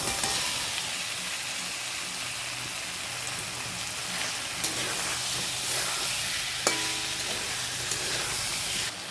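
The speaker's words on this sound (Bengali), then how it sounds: "এবার আগে থেকে ভেজে রাখা ফুলকপি আলুগুলো দিয়ে দেব।" Pre-fried potatoes and cauliflower sizzle steadily in a masala in a pan, a dense close crackle with occasional stirring scrapes and clinks, and no voices.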